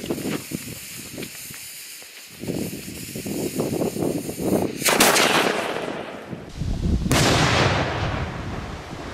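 A large fireworks cake goes off outdoors, a rapid string of sharp crackling bangs followed by two louder, longer blasts with hissing trails.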